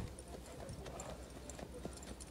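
Hooves of a young Mangalarga Marchador horse clip-clop in the marcha gait, a steady close rhythm of hoof beats on the ground with faint background noise.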